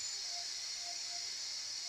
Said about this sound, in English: I can't capture the steam, but you can see it's releasing out.